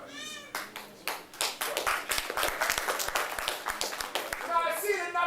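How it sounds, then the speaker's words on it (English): Scattered clapping from a church audience during a sermon, sparse uneven claps spreading across the clip at moderate level, with a voice speaking at the start and end. "Now I see that not too many people is clapping."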